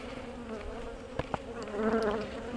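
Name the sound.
honeybees from Georgia buzzing around nuc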